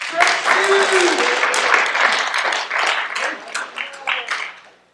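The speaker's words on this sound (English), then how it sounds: "Go ahead and clap." Audience clapping at a high school hockey banquet, several seconds of scattered applause from a room of people with voices talking over it, tapering off at the end.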